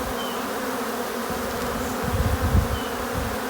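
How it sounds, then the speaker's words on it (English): A dense, steady hum of many honey bees buzzing around a hive, close by, with a few louder low rumbles of handling toward the end. "There are a whole lot of bees in this box"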